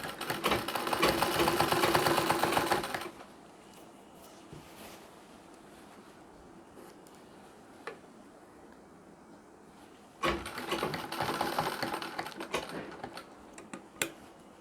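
Close by, a sewing machine stitches a chain onto a nauvari saree, running hard for about three seconds, falling quiet for a long pause, then whirring again in a second burst.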